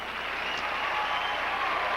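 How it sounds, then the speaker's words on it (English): An audience at the 1988 Miss Teen USA beauty pageant cheers and applauds for Miss Louisiana, a faint, even wash of distant clapping and crowd noise that holds steady throughout. "The cheering section is out."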